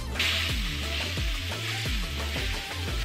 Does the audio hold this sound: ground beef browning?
yes